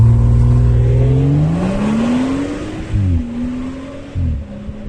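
A Ford Focus RS engine revs up and down loudly nearby, rising in pitch, then settling with a couple of brief throttle blips.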